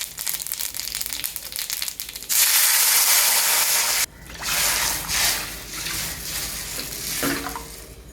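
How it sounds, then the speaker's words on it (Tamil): Mustard seeds crackle and splutter in hot oil for rasam, with a loud surge of hissing sizzle in the middle before it settles to a steady popping fizz. "இதில் கொஞ்சம் கடுகு போட்டுக்கோங்க. கடுகு பொரிஞ்ச உடனே"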